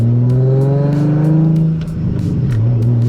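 A tuned Nissan 350Z drift car with rolling anti-lag holds near 3,000 rpm, its engine loud and close, climbing in pitch, then dipping, while rapid pops and crackles burst out over the drone.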